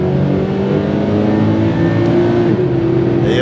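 A Subaru BRZ pulls hard on a race track, its engine note loud and close as it accelerates steadily for the whole stretch, with no voices over it.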